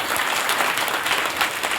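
Applause from an audience at a kirtan, dense and steady clapping filling the room for a short burst with no voices over it.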